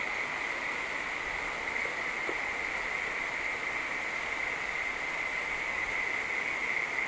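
Steady hiss of rain and rushing floodwater on waterlogged Jodhpur streets, a constant even wash of water sound with no voices.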